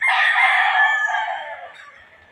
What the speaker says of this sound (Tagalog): papasilip ko sa inyo yung mga manok natin